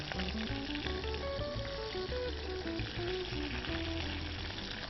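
Food frying in a pan with curry leaves and coriander, a steady loud sizzle and spatter running the whole time beneath a constant background music bed.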